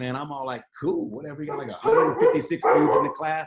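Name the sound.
dog barking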